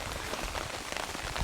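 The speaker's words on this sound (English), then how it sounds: "I thought it would be raining harder already." Steady rain from the storm of Hurricane Dorian patters on surfaces nearby, a dense, even hiss of drops with no voices, lasting only a moment.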